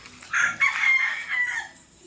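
A rooster crows once at moderate distance, a drawn-out call rising and fading over a quiet background.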